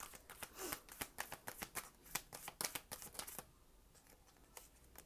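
A deck of tarot cards is shuffled by hand in quick, soft, irregular snaps and riffles for about three seconds, then a few scattered taps as the shuffling slows; quiet and close, with no talking.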